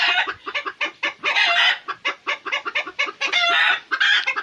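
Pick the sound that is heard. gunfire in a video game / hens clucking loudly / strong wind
hens clucking loudly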